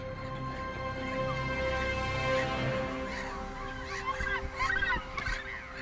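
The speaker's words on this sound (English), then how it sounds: "the gannets return to their enormous breeding colony" A large gannet breeding colony fills the air with many overlapping harsh, croaking bird calls, loud and continuous, thickening into a busy chorus toward the end.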